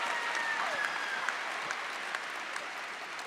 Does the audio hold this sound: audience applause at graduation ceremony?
yes